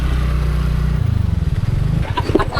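A motorcycle engine runs close by during a ride in search of parking, with a steady low throb that turns into pulsing, uneven putters as the bike slows, and brief clatter near the end.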